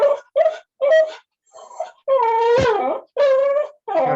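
A dog whines repeatedly in a series of high, wavering cries with short gaps, close and fairly loud, heard indoors during an online astronomy society meeting.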